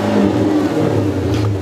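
A Chrysler 300C with a 5.7-litre V8 Hemi revs up close and loud, the engine note climbing quickly in a short, continuous burst.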